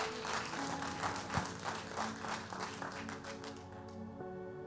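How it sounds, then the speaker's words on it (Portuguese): Congregation applauding in church, sustained dense clapping from many hands that fades out near the end, with a low hum lingering underneath. "Aplauda mais forte ao Senhor."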